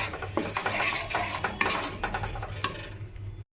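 A spoon scrapes and stirs thick masala in a pan while it cooks down until the oil separates, giving close scraping and clinking strokes with a low hum underneath before it cuts off abruptly.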